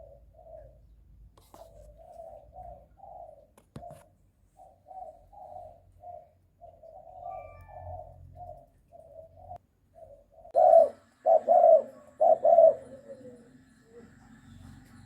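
Spotted dove cooing at Bang Kaeo Tai, a steady series of soft, rhythmic coos. Louder, closer coos come near the end, with faint low background noise beneath.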